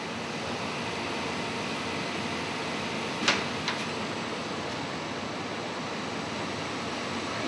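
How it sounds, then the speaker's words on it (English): A gas furnace venter motor runs in a steady, even whir after a call for heat, with a brief click or two partway through and no talking. "See, venter motor's energized."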